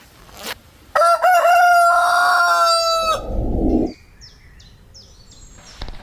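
A rooster crows loudly nearby in one long call, followed by softer clucking of laying hens and faint chirps in the background.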